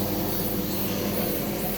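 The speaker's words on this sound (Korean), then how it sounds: "갑자기 헬리콥터가 지나가서 잘안 들리네요." Loud, steady rotor roar of a helicopter overhead, with a faint low thumping beneath the broad rushing noise.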